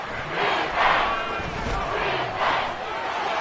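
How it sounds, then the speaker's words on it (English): Loud stadium crowd at an NFL football game during a tense third-and-eight play in the final minute, a dense continuous roar with swelling surges of cheering and shouting. "This crowd making it hard to hear."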